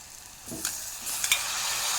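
Tomato and cucumber fry in a pan with a steady sizzle, while a couple of sharp stirring scrapes cut through near the start and the end.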